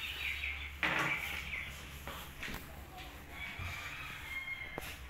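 An Ayam Cemani rooster crows once, fairly near, over a quiet outdoor background with faint voices and scattered small knocks.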